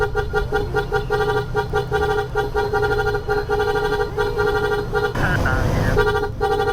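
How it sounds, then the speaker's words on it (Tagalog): A jeep horn toots repeatedly on a road during a scooter ride, short bright beeps over steady traffic and engine noise, ending in a louder rushing burst. "Beep beep beep, ang sabi ng jeep"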